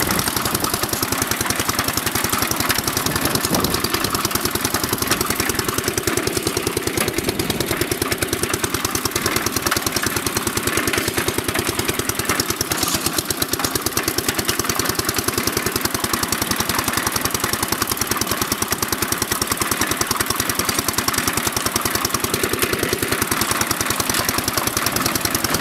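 A 1948 Ariens tiller's engine runs steadily and loudly up close, a continuous knocking, chugging drone that holds for the whole stretch without pause.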